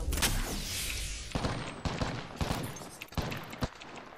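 Dense bursts of gunfire from a shooter video game, with rapid overlapping shots and sharp impacts packed close together, loud and continuous throughout.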